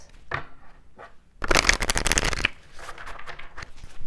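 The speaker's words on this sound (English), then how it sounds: "now let's get one card from this deck" A deck of tarot cards is shuffled up close, a dense burst of riffling card flutter lasting about a second, preceded by a few soft taps and followed by quieter card handling.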